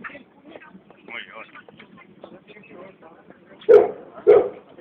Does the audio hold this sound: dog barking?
yes